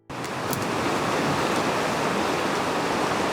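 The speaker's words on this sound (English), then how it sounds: "We are looking at the biggest rapid in Siberia." The biggest rapid in Siberia roars as a dense, steady wall of rushing whitewater, loud and unbroken from start to finish, with no voices.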